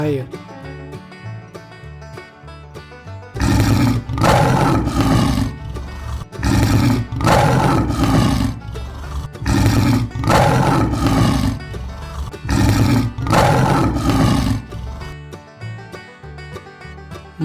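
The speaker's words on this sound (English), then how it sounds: "Lion." A lion roaring in a series of loud, broad bursts of about a second each, repeated steadily over background music, close and powerful.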